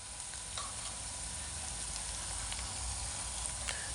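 Garlic sizzling as it fries in a pan while a spinach dish is being prepared, a steady close crackling hiss with faint scattered pops throughout.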